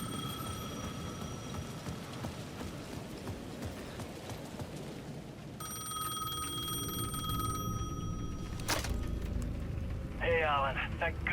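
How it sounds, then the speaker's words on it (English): A payphone at the edge of a plaza rings in Alan Wake 2. Repeated bell trills cut through rain and ambient clatter, with a louder burst of ringing near the end. "The payphone at the edge of the plaza was ringing again."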